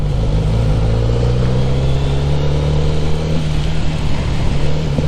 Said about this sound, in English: And thanks to this inline 4 engine, pulling away